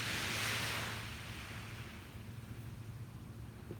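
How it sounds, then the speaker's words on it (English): Ocean waves wash onto a beach in the morning as a broad, rushing surf that swells early and then settles into a steady roar, moderately distant, with a low wind rumble underneath and no voices. "the waves are very relaxing"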